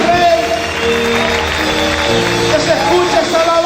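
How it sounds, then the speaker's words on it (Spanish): Congregation clapping during a lively church worship service, dense, steady applause layered under loud sung and shouted praise with a constant crowd roar. "Grita y aplaude fuerte al Rey de Gloria."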